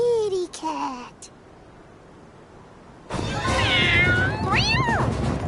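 A cat in Visions of Mana on PS5 meows in two short bursts, then after a pause gives a longer, wavering, whiny meow with rising and falling pitch, loud and close over game ambience.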